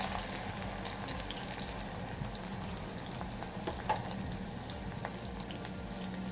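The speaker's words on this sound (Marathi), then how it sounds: "तापत ठेवली होती त्याच्यात आपण घालणार आहोत हा चिरलेला कांदा" Chopped onion dropped into heated oil in a pan, a soft steady frying hiss with faint bubbling and occasional small crackles, close but fairly quiet, no voices.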